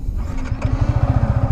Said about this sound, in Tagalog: ganyan siya para mag-start itong MT-15